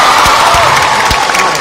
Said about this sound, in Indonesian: Tepuk tangan buat kalian semoga.